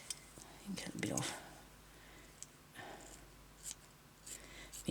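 Scissors cutting material for a beaded craft piece, a few short close snips and rustles spaced over a few seconds, with soft murmured speech mixed in.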